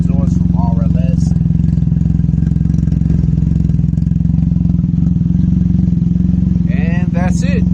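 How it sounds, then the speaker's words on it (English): Can-Am Ryker three-wheeler fitted with a twin Chaos exhaust from RLS and a Pedal Commander, rumbling loudly and steadily at idle throughout, with brief voices talking over the engine drone. "It's loud exhaust"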